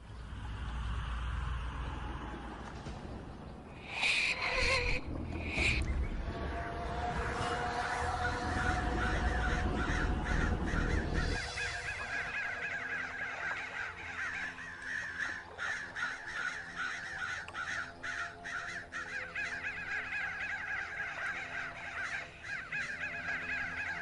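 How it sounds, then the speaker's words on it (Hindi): A flock of crows caws repeatedly overhead as they fly, their harsh calls overlapping in an irregular stream of moderate loudness over a steady background hum. "इतना सारा कौवा उड़ रहा है, लेकिन एक भी कौवा खाना ही नहीं खा रहा।"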